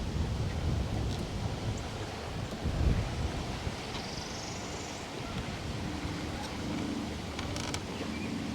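Steady wind blowing across open water while fishing, a constant broad rushing noise with faint creaks, no voices.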